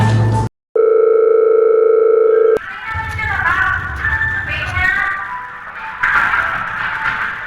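A steady telephone dial tone holds for about two seconds after a brief cut, then stops as a call is placed and people begin talking over background noise.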